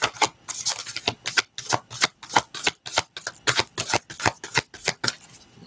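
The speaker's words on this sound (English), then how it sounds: "Let me shuffle this up." A deck of cards is shuffled over and over in crisp, close riffling bursts, each followed by brief gaps, forming an uneven rhythm with no talking.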